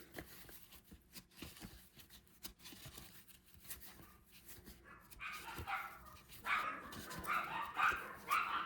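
Dogs bark excitedly somewhere in the house, sharp scattered yips and barks that start faint and grow louder and busier toward the end, with no talk over them.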